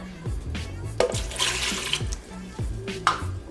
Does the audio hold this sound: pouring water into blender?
yes